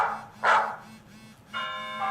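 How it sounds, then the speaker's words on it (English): Bark ringtone on an iPhone 5 running iOS 6: a couple of short dog barks, loud and close, separated by a brief pause, followed by a held tonal sound, with no speech. "bark"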